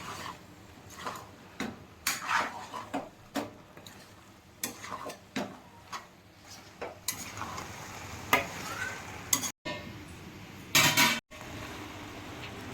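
Mughlai chicken curry with egg is stirred in a pan with a spoon, giving a steady series of scraping and clinking strokes over a soft sizzle, with a few louder knocks of utensil against pan, and no talking.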